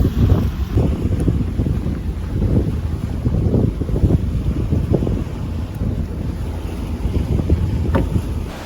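A sailboat motors under engine power at sea while crossing, a steady low rumble blended with wind buffeting on the microphone and the wash of water, continuous and fairly loud throughout.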